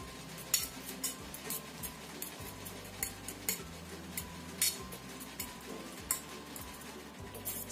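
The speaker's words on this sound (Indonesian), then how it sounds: "Ini kita becek-becek sampai halus seperti ini." Cooked pumpkin mashed smooth in a pot, a rhythm of soft repeated thuds and clinks of the utensil against the metal over a low background hiss, fairly quiet and close.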